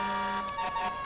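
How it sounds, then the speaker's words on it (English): A fire engine's Federal-style mechanical wail siren and horns in GTA 5, a steady drawn-out tone running throughout, moderately loud and alone with no talking. "So we have our beautiful keel siren right there on the front,"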